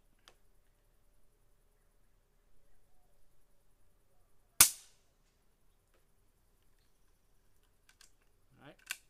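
Single sharp crack of a Taipan Mutant air rifle firing a .22 pellet at about 45 foot-pounds, heard from roughly fifteen feet, standing out clearly in an otherwise quiet room with faint clicks and a brief voice near the end.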